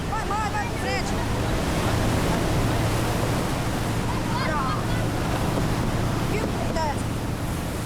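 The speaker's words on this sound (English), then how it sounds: "The swell's too strong, the canoe will tip." Strong ocean swell washes around a canoe on a Brazilian river crossing, a loud, continuous rush of surf and wind noise with bird-like chirps above it.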